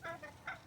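Backyard chickens clucking close by in a garden, two or three short soft clucks spaced apart, no voices.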